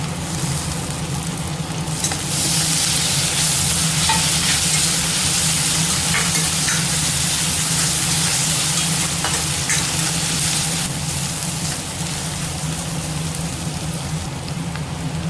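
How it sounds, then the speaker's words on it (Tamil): Onion with crushed ginger and garlic sautéing in a pan for an egg curry, making a loud, steady close-up sizzle like rain, with a few faint scraping stirs and no talk. "வெங்காயம் இஞ்சி பூண்டும் நல்லா வதங்கிடுச்சு."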